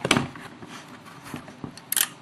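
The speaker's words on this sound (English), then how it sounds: "which actuates this, which opens the shutter, as you can hear" Several dry mechanical clicks spread across a couple of seconds, ending in a sharper, brighter snap as the shutter of a 100-year-old Kodak camera is released.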